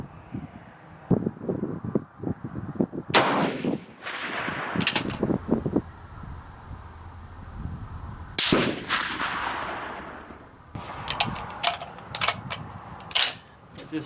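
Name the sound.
rifle shots at a shooting range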